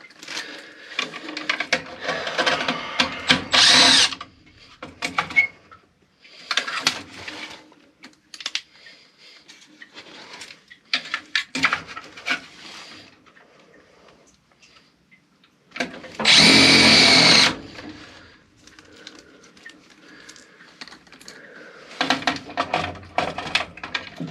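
Power drill driving two screws to mount a universal furnace control module, several short whirring bursts separated by pauses with light handling clatter and one longer, louder burst near the middle.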